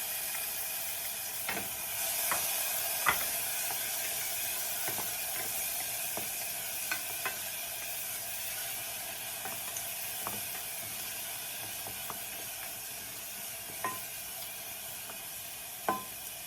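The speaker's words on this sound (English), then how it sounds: "I'm just gonna let that sit, you know, just saute for about a minute or 2 by itself." Onions and tomato sauté in a frying pan while making tomato choka, giving a faint steady sizzle with occasional small clicks and scrapes, no talking.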